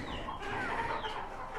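A hen on a house rooftop clucks faintly against a steady murmuring background, with a soft drawn-out call in the middle of the short stretch.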